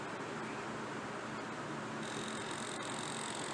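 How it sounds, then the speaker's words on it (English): A PlayStation 2 disc drive runs with a continuous coarse grinding whir from its gears and laser rail, steady and close, a faint high whine joining partway through. "It sounds like the gears grinding in there, or the rail system where the laser runs up and down"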